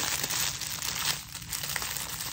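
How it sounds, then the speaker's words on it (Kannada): Plastic packing cover crinkling as items are packed, continuous close rustling and crackling with uneven bursts and a brief lull midway, no talk. "ಈ ರೀತಿಯಾದ ಪ್ಯಾಕಿಂಗ್ ಕವರಲ್ಲಿ ಇದನ್ನ ಇಟ್ಬಿಟ್ಟು"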